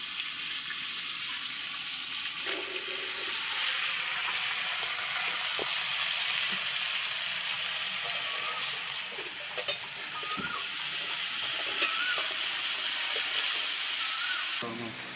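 Pointed gourd fries in a little oil in a wok, giving a continuous sizzling hiss that holds steady for the whole stretch, with a few light clicks and scrapes from stirring.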